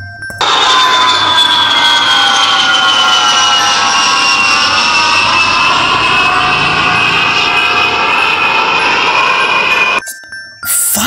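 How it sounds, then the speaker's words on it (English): A loud, steady jet airplane roar with a high whining engine tone that slowly falls in pitch, cutting off abruptly near the end. "Airplane. This is an airplane."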